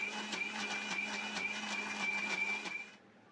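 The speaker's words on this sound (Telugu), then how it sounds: "మిక్సీ జార్లో సగం వరకు మినపప్పు తీసుకొని కొద్ది కొద్దిగా వాటర్ వేసుకుంటూ గ్రైండ్ చేసుకోవాలండి" A kitchen mixer grinder whirs steadily with a rhythmic pulsing as it grinds urad dal with a little water into idli batter in a half-filled jar, then its motor cuts off and winds down near the end.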